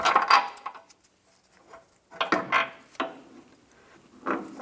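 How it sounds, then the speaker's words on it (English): Steering rack bolts being removed on a 2007-2014 Cadillac Escalade give short, close metallic clicks and clanks of a tool working, in a few separate bursts with quiet gaps between. "Support the rack while removing the bolts."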